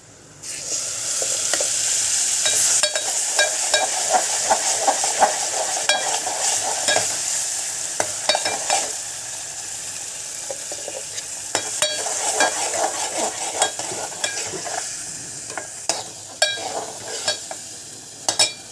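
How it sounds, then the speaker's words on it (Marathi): Ground masala paste sautéing in a pan, with a continuous close sizzle broken by frequent sharp clinks and scrapes of a stirring spoon against the vessel; no talking. "आपण जरा थोडं परतून घेऊया मसाला आपण वाटण करून घेतलेलं"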